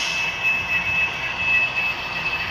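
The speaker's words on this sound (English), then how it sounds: "Oh, sweet. You can hear it brake." An HO scale Soundtraxx Blunami decoder in an Interstate heritage locomotive brakes, giving a steady metallic hiss with a thin, high whine that holds evenly throughout at moderate loudness, with no talking.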